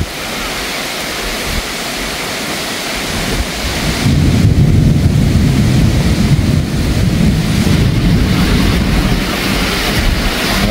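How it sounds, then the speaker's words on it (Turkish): A sudden windstorm in Izmir whips up dust, starting as a moderate steady rush and then swelling into a loud, roaring gust that stays strong to the end, with no voices over it. "Müthiş bir fırtına geldi."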